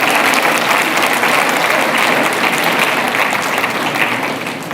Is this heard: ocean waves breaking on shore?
no